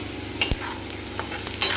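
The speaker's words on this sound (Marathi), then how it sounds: "तर आता आपण हा कांदा छान एकदम परतून घेऊ।" Onion sautéing in a pan, soft sizzle with a few light stirring scrapes and clicks of a utensil, faint and close, no talk.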